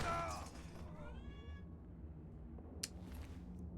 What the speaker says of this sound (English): What you probably just heard there is my cat approaching at vast speed.